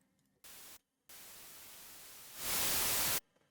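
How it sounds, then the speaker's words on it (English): White noise synthesized in Serum plays in three bursts: a short one, a longer steady stretch, then a louder final burst before it cuts off, with no talking. "Okay, so we'll just go white noise."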